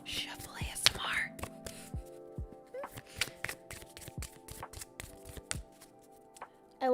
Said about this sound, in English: Shuffle ASMR.